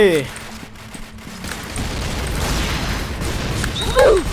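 Gunfire from a gun in the Point Blank shooting game: a couple of sharp shots early on, then a longer stretch of rumbling, noisy shooting and game effects at steady loudness.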